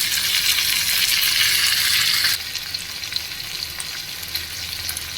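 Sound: frying mashed pointed gourd (potol) with onions

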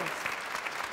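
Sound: audience applause

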